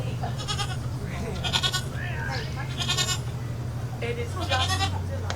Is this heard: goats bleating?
yes